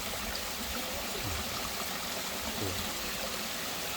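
A waterfall and its stream rush in a steady, continuous hiss of flowing water that fills the whole moment evenly, with faint outdoor sounds.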